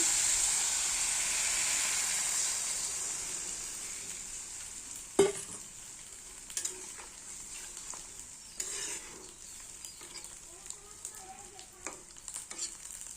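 Potatoes and drumsticks fried in a pan sizzle with a strong hiss that fades as water is poured in, followed by quieter bubbling and scattered spoon clinks and scrapes against the pan.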